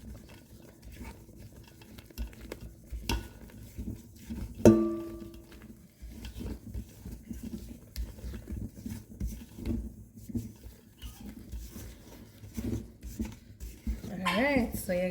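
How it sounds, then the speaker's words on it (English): Muffin batter being stirred in a mixing bowl, with soft continuous scraping and tapping of the utensil against the bowl and a brief voice now and then. "add it gradually so you can mix it without it getting too lumpy"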